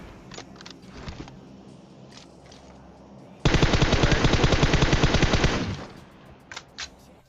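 Automatic gunfire from PUBG Mobile rattles off in one sustained rapid burst of about two and a half seconds. Scattered footsteps and small clicks come before and after it.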